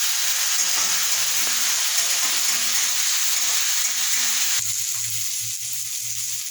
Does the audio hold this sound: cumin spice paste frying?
yes